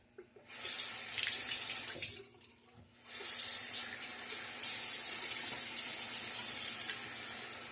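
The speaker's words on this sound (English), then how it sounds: "splash of water on my face." Running tap water splashed onto a face during a wet shave with a Timeless SS .68 OC razor, a loud hissing rush that stops briefly for about a second, then resumes steadily close by.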